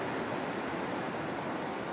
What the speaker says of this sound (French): Regardez ces vagues, nous sommes en hiver